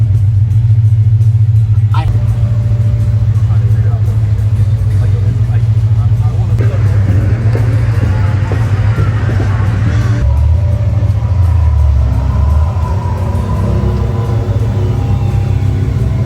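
A 1960 Ford crew cab truck with a 700+ horsepower GT500 engine swap cruises along, its deep steady low rumble droning throughout at close range, with road noise and a brief louder surge near the end; people talk over it.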